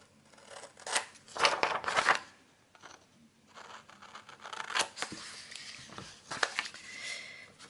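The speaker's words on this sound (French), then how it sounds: "Je vais le couper au ciseau." Scissors cut paper for a scrapbooking photo album, with clusters of crisp, close snips and slicing strokes separated by brief pauses.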